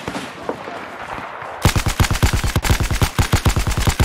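Rapid automatic rifle fire in the Battlefield 4 multiplayer shooter, a loud close sustained burst of evenly spaced shots starting abruptly after a quieter stretch of battlefield ambience.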